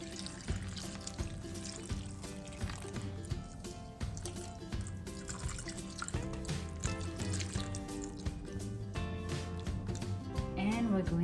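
Water is poured into a pot of pork belly seasoned with cayenne pepper for braising, a close, steady splashing pour that runs continuously with small gurgles and drips.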